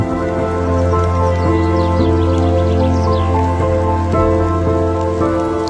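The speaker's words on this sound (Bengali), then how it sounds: "কচি পাতায় টুপটাপ শব্দ" Rain patters on leaves in a village, a dense, even spray of drops that carries on throughout, set against a steady sustained musical tone.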